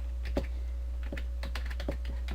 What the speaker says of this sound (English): we click here and press return or enter on the keyboard